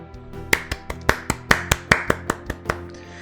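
Sparse, crisp claps ring out in a steady, quick pattern of about a dozen sharp hand strikes within a few seconds, close and dry with no talking, as applause in the Doki Doki Literature Club Purist mod.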